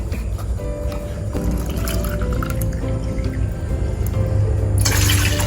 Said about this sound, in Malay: kemudian saya tambah lagi empat cawan. empat cawan ataupun empat kotak air biasa